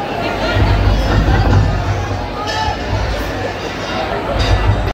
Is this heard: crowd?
yes